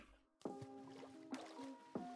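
Splashing from a character swimming through water in Minecraft during a UHC match: three short watery bursts roughly a second apart, close and moderately loud, over sustained steady tones, with no talking.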